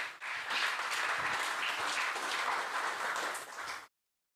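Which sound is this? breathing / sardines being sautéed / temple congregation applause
temple congregation applause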